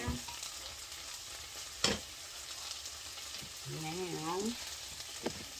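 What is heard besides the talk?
onion frying and caramelizing in a pan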